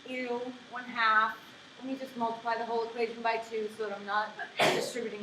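A short, sharp sneeze bursts out near the end, cutting across someone speaking steadily.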